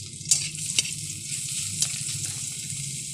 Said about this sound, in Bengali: এরপর পেঁয়াজ কুচিগুলো ভাজে নিচ্ছি। এরপর রসুন বাটাটাও দিয়ে দিচ্ছি।